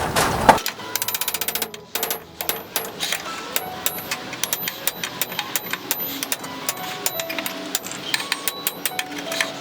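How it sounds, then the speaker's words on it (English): A metal exhaust flange for a Toyota Starlet 3SGE manifold is hammered into an edge in a home garage, with a rapid run of sharp, ringing metallic blows, loud and close, continuing steadily with no talk. "So I need to hammer this guy into this edge right here."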